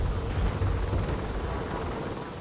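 A loud aircraft in Garry's Mod roars as a steady broadband drone, dense and rumbling, with no clear breaks across the short stretch.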